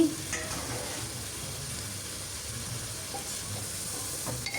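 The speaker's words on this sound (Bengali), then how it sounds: "এখন এগুলো আমি নাড়াচাড়া করে দিব নাড়াচাড়া করে একদম মশলার সঙ্গে মিশিয়ে দিব" Beef bone pieces and small chunks of meat being stirred with spices in a pan, giving a steady low frying sizzle with soft scraping throughout and no talking.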